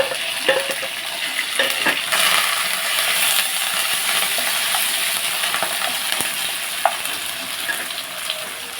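Onions, green chillies and curry leaves sizzle steadily in hot oil, a continuous crackling fry with a few sharp pops and light utensil clicks, close and fairly loud with no talking.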